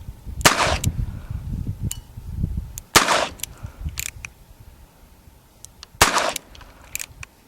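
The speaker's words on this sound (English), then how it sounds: "First time we're gonna shoot this gun. Actually, I'm gonna shoot the jar first," An H&R Sportsman revolver fires three sharp, loud shots at a pickle jar outdoors, spaced a few seconds apart, with faint clicks and rustling between them.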